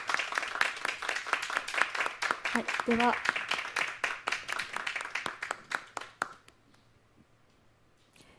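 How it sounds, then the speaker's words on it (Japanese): A small group at a Go event claps steadily, the applause thinning and fading out after about six seconds; a voice speaks briefly partway through. "皆さん拍手でお迎えください。"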